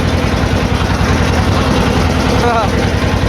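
A trawler boat engine drones loudly and steadily at close range on the Buriganga River in Dhaka, a low rumbling chug that persists throughout.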